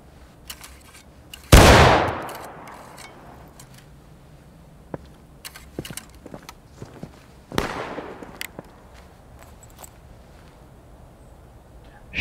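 Rifle volleys fire during skirmish training in the Civil War game War of Rights: two loud, close blasts several seconds apart, each with a long trailing echo, with faint clicks and footsteps between them.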